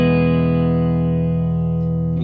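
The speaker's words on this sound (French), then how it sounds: "Signal d'origine sans aucune reverb sur l'ampli, avec la Surfy Beer." A guitar run through a SurfyBear reverb unit into an amp with no reverb applied gives a single sustained, dry chord that rings steadily and loud and slowly decays near the end.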